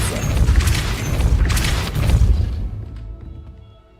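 A Depulso force spell in the video game Hogwarts Legacy lands as a heavy booming blast, loud and close, with crashing debris that rumbles on for a few seconds before fading out.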